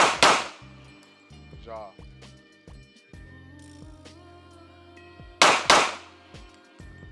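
Pistol shots at a shooting practice range: two loud, sharp cracks, one at the start and another a few seconds later, with an instructor and shooter talking between them.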